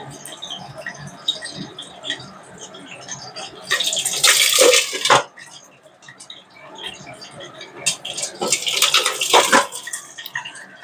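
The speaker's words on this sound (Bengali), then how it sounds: "আসলে পটলগুলোতে একটুখানি জল লেগে রয়েছে, যার ফলে তেলটা ছিটকচ্ছে।" Pieces of pointed gourd (potol), still wet with water, hit about two tablespoons of hot oil in a pan and spatter, giving two loud bursts of sharp crackling and popping between quieter sizzling.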